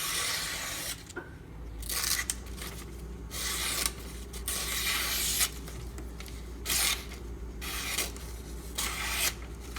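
Knife blade stroked across a Schrade Old Timer fine sharpening stone, repeated rasping scrapes about once a second, close and crisp, alone.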